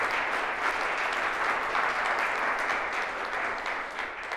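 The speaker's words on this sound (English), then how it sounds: "I just want to give a round of applause and a thank you to the two gentlemen that truly helped me escape my matrix" Steady round of applause from an audience at a real estate wholesaling talk, a continuous wash of many hands clapping at even volume.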